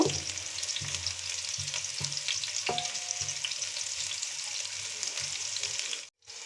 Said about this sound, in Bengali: পেঁয়াজ গোল্ডেন ব্রাউন করে ভেজে নিব